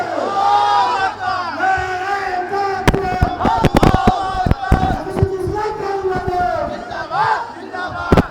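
A large crowd at an outdoor Islamic mass rally chants Allahu Akbar in answer to a Nara-e-Takbir call, loud overlapping voices rising in repeated shouts with sharp claps and bangs mixed in.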